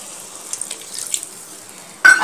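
Water trickles and splashes into a pan of Bengali fish curry with potato and raw banana, a soft, uneven pour that ends in a brief louder splash.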